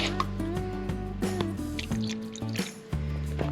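Water drips and trickles while a rock tumbler barrel rim is rinsed during greenstone polishing, with irregular splashes and small knocks over a steady liquid wash, fairly close.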